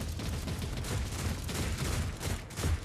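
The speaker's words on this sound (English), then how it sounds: "Autocannon turrets." Autocannon turrets firing in the Warhammer 40K Rogue Trader video game, a dense continuous barrage of rapid heavy bursts with no letup, loud and close, no talking.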